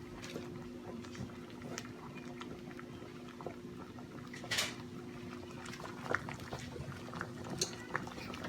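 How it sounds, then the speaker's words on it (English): Water boils in a pan on a kitchen stove, a soft continuous bubbling and hiss with a low steady hum and occasional faint clinks of utensils or cookware. "now we have this water boiling over here"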